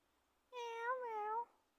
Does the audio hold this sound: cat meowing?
yes